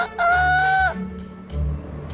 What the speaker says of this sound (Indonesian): Keesokan harinya, ayam-ayam itu berkokok lagi membangunkan hewan-hewan di peternakan.